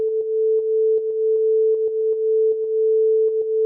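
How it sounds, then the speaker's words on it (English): A steady pure test tone plays through a plugin's main signal path, loud and unbroken, with faint rhythmic drum-like ticks pulsing beneath it. "running test tones through the main signal path"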